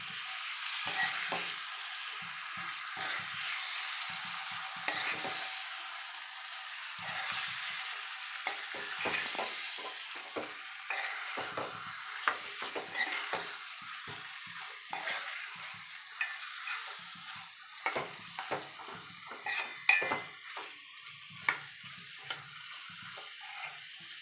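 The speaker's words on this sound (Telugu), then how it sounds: "ఉల్లిగడ్డలు ఇలా ఫ్రై అయ్యాక మసాలాలు కలిపి పెట్టుకున్న చికెన్ను ఇందులో వేసుకోవాలి. వేసి ఇలా బాగా కలుపుకోవాలి." Masala-marinated chicken stirred into fried onions in a pan, a steady hissing sizzle with repeated scraping and thudding stirs that grow more frequent and pronounced toward the end, close.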